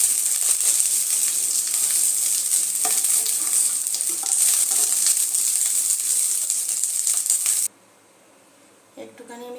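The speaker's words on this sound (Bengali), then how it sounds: "ভেন্ডিগুলো আমি একটু হালকা লাল লাল করে ভেজে নেব।" Okra (bhindi) frying in oil in a pan gives a loud, steady sizzle with occasional stirring clinks, then the sizzle cuts off abruptly near the end, leaving a quiet stretch and a brief clatter.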